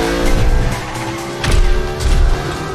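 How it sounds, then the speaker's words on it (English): A car drifts in Fortnite with tires skidding and squealing over a revving engine, loud and close, with two surges of screeching across a few seconds. "Oh, mate, I'm drifting."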